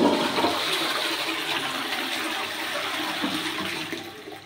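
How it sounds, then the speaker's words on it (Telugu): A western toilet with a siphon flush tank flushing close up, a loud rushing gush of water that slowly tapers as the bowl drains, with no voices. "ఫ్లష్ చేస్తాను చూడండి."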